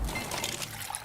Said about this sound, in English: Those are the sounds of Bosch's Quick Ice Pro, the industry's fastest refrigerator ice maker and bottle fill technology